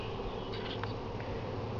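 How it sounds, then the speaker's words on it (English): Bees buzzing steadily around an open beehive outdoors, a dense continuous hum close by with a few louder individual bees flying past, no talking. "Happy bees."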